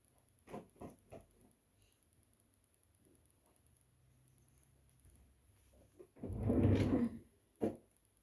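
A drawer in a home bedroom slides open and shut: a few sharp knocks early, then a louder rumbling slide and a final thud near the end, with a quiet room between and no talk.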